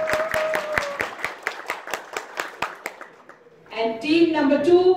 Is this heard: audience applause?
yes